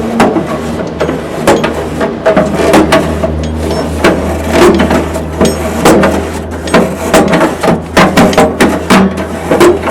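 A metal scraper is worked back and forth over the grill grates of a GMG Davy Crockett pellet grill, giving repeated sharp scraping strokes over a steady low hum, with no talk.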